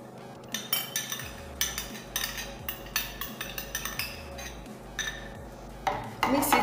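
Egg yolk is whisked into rice water in a bowl, with rapid metallic clinks and scrapes of a utensil against the bowl in uneven bursts, close and fairly loud.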